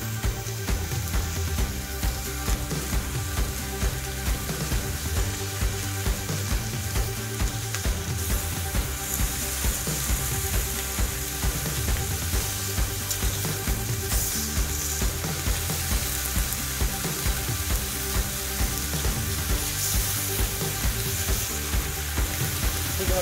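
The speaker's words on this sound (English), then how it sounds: "Hear that sizzle?" Bacon sizzles steadily on a Tribal Fire grill, a dense, continuous frying crackle that stays loud and close for the whole stretch with no talking.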